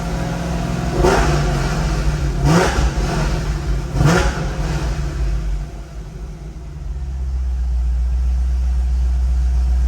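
A 2008 Corvette engine, freshly resealed at the intake and needing tuning, catches with a few loud revving bursts, then dips and settles into a steady, deep rumbling idle close by.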